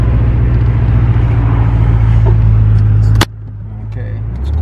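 Cars rumble past close by in a loud, steady road roar that drops suddenly after about three seconds to a quieter hum of traffic.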